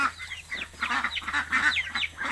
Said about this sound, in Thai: นี่ไง ไก่น้อยก็ออกมาได้กินมดกินแมงกินปวก